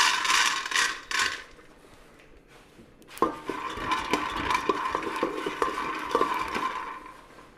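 Dry peanuts, half a cup, being stirred in a hot pan for a sweet ball recipe, with scraping and light rattling of nuts against metal, quiet at first and then steady, busy clattering without talk.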